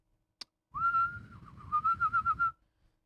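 A person whistles a sustained note, then a quick run of short rhythmic pulses, alone and close by.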